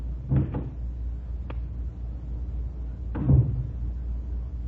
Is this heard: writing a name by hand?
no